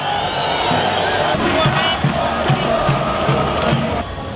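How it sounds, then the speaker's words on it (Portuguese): Loud stadium crowd at a Série D football final, booing and jeering in a sustained roar as the opposing team comes out to warm up, with rhythmic chanting and some shouts. "Vaias, porque o América entrou pra aquecer."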